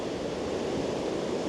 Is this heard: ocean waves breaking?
yes